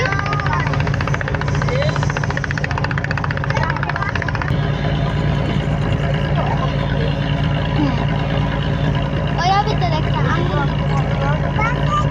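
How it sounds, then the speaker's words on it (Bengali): A passenger launch travelling on a river near Old Dhaka, its engine a loud, steady droning rumble throughout, with faint voices and scattered background chatter mixed in. "এই যে লঞ্চ চলে যাচ্ছে আমরা এই লঞ্চে আছি"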